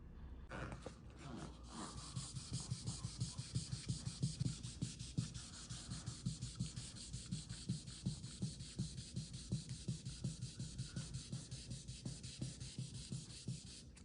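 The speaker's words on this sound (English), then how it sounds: "So let's get to sanding." Rhythmic back-and-forth sanding strokes on a Ferrari 360's clear coat, steady and repeated for the whole stretch, close-up scratchy rubbing with no talking.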